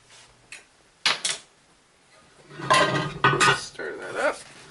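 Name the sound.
stirring Cajun seasoning, onion powder and garlic in a pot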